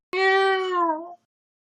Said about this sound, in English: These have been formerly feral cats that adopted us